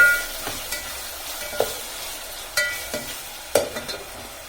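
Cashews frying in a pan for a curry, with steady sizzle and several sharp scrapes and knocks of a spoon stirring them, moderately close, no talking.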